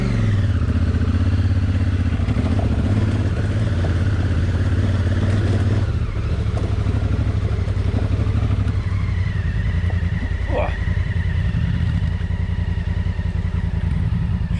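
A motorcycle engine drones loud and steady throughout while the bike rides a steep, rocky trail of switchbacks on the Trans Euro Trail in the Spanish Pyrenees, with clattering over the rough ground and a brief higher whine later.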